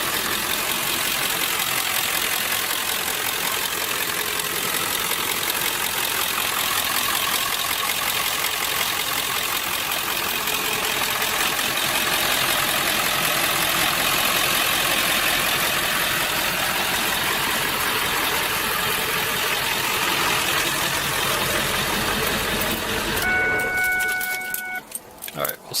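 Ford 7.3 Powerstroke diesel engine idling with a steady, rough, clattering drone that runs unbroken and fairly loud for over twenty seconds, then cuts off near the end.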